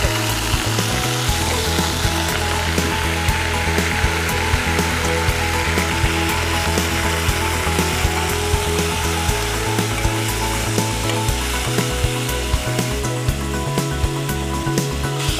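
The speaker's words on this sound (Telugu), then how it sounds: "అన్ని కలిపి మళ్ళీ ఫ్రై చేసుకుంటున్నావా?" Ponnaganti greens and chana dal frying together in a pan, a steady sizzle with a rhythmic scraping or clattering pattern underneath, continuous and fairly loud throughout.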